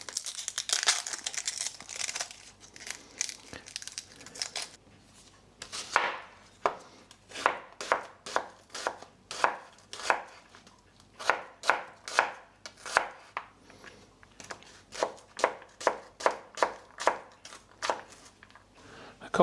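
Medium onions chopped on a cutting board for broccoli and Stilton soup: a few scattered knife strokes at first, then a long run of steady, evenly spaced crisp chops, close and clear.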